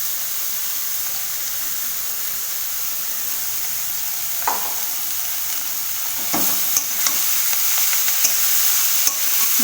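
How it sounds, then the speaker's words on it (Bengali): Papaya pieces are stirred with browned fried onion in a hot pan, giving a steady loud sizzle with occasional clinks and scrapes of a spoon against the pan. "ভালোভাবে পেঁয়াজের সাথে আমি পেঁপেটাকে নাড়িয়ে নেব।"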